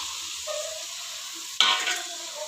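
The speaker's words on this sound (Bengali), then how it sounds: "এখন আমি ভাজা শুকনো মাছগুলো দিয়ে দেব।" Fried dried fish stirred in a sizzling pan: a soft continuous fry hiss, then a sudden loud burst of sizzle and clatter as the spoon scrapes through, easing afterward.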